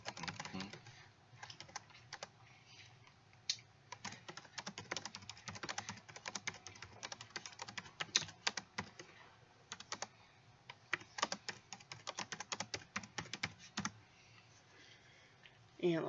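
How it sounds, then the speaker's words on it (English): Fingers tap quickly on a computer keyboard, a steady patter of close key clicks in bursts with brief pauses, while a person talks quietly at times during a live stream setup. "Let me type something in here."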